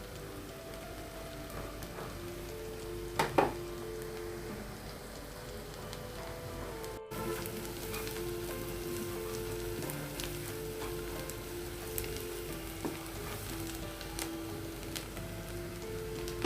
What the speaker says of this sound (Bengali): আমি পেঁয়াজগুলা নেড়ে নিচ্ছি।